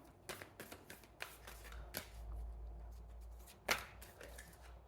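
Tarot cards are shuffled quietly with soft riffling flicks and taps, faint and close, with a low background hum.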